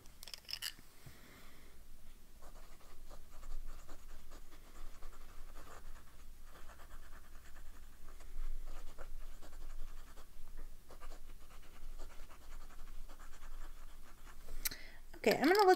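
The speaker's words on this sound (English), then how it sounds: "I should write these down so I remember them." Pen nib scratching across ink swatch cards, steady soft writing strokes close by for most of the stretch, with a brief louder rustle or clatter at the very end.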